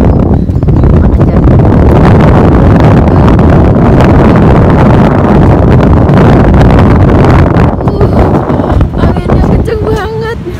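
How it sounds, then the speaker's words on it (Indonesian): Strong cold wind blasts a balcony in the Netherlands, a loud, continuous buffeting rumble across the microphone that barely eases toward the end, where a voice briefly speaks over it. "Anginnya kenceng banget."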